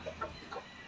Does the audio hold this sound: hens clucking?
yes